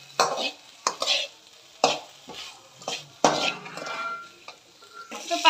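Spoon stirring salt into a vegetable mixture in a pan: repeated scraping strokes against the pan at an irregular rhythm, close and fairly loud, with a faint sizzle underneath.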